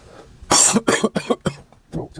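A burst of several sharp coughs in quick succession from a person with a cold, close and loud, trailing off into a softer final cough.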